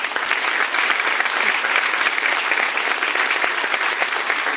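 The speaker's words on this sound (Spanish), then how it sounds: "Un aplauso" Dense, steady applause from a large crowd at the opening of the 13th International Congress on Environmental Education, loud and continuous throughout with no talking.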